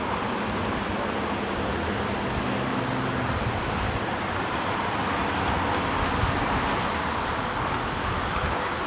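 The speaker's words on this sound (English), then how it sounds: "the cars on the highway there, speed past" Cars speed past on a highway in Toronto at night, a continuous wash of traffic roar heard from a distance, steady and fairly loud, with faint music mixed in.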